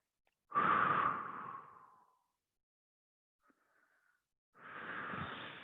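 Slow breathing during a chest stretch: a long, close exhale lasting over a second, a pause of near silence with a faint soft breath, then another slow steady exhale.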